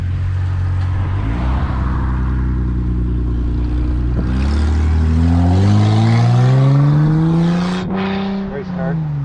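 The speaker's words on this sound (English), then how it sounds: "Race car." Race car engine roaring past nearby, its pitch sliding up and then down as it accelerates by, loud and sustained over the whole stretch.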